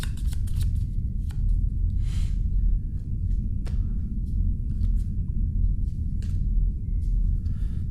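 Playing cards for the Nemesis board game are shuffled by hand, with a series of crisp riffling and flicking bursts over a low room rumble, close and fairly quiet, with no talk.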